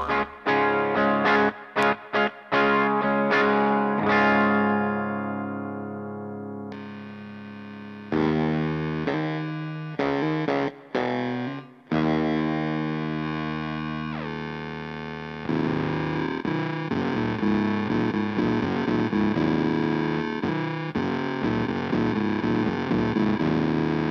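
Electric guitar played through a Mooer Lofi Machine lo-fi effects pedal, heard alone, produces distorted, warbling 8-bit style notes: choppy bursts and stutters at first, then longer sustained chords with wobbling, glitchy texture.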